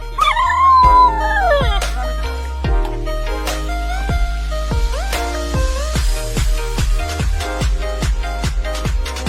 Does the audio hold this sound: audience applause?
no